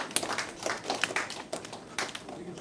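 A comedy club audience claps in scattered, uneven bursts, several sharp rounds of hand claps close by with no steady applause.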